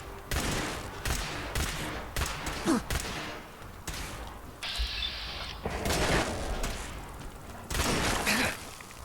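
Gunfire and combat noise in the Fallout 4 video game, with repeated loud shots and bursts, mechanical clanks and thuds in close succession.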